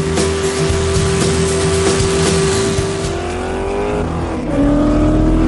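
A rally car roars past at high speed, about 100 metres per second on an isolated rally stage road, engine screaming at high revs, then shifting gear and climbing again, loud and close.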